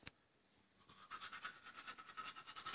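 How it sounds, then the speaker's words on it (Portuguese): A toothbrush scrubs teeth in quick, rhythmic back-and-forth strokes, soft and close, starting after a brief click and continuing steadily to the end. "Você vai escovar o dente?"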